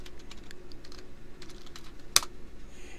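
Steady typing on a computer keyboard, a run of light, close key clicks with one sharper, louder keystroke partway through, heard alone without talk.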